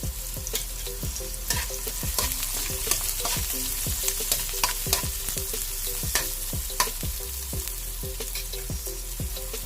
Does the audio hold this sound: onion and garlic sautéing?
yes